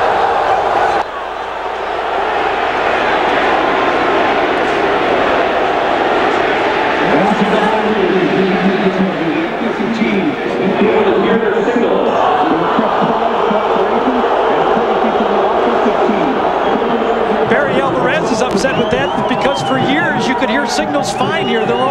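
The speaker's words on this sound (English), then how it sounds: "Crowd noise." A college football stadium crowd roars and murmurs continuously, with swelling cheers and a rising burst near the end, while a commentator talks over it.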